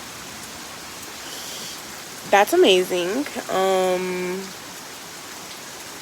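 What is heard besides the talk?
heavy storm rain falling outside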